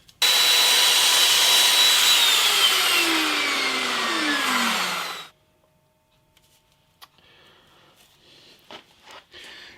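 A chop saw cuts a slot into a wooden guitar body, a loud whining grind that runs steadily for about five seconds, its pitch sliding down as the blade spins down, then cuts off, leaving faint scattered clicks and handling noises.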